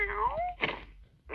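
A cat meows close by, a short rising-and-falling cry followed by a breathy sound, with no talk.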